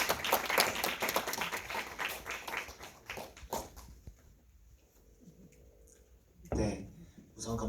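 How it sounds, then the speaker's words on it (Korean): An audience applauds to welcome a film director at a post-screening talk in a cinema. Dense clapping fills the first few seconds, then thins to scattered claps and quiet, with a brief louder burst near the end. "박수로 맞이해 주시면 감사드리겠습니다."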